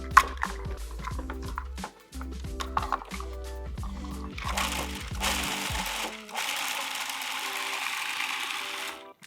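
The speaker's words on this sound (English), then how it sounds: "we're just gonna pulse this until it all kind of becomes a thing together" A food processor pulses basil, spinach and pine nut pesto in a run of short, choppy motor bursts, then settles into a longer, steady whirring blend near the end.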